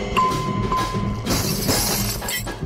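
Glass shattering in the game Ape Out, a bright crash with scattering fragments that follows a short tone and some thuds, loud and close.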